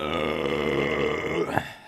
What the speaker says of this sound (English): Okay, that's burp 1.